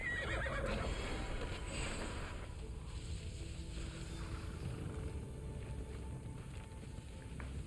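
Horses whinny and neigh over a steady rumbling background, with faint clip-clop of hooves; ambience from the video game Immortals Fenyx Rising, no talking.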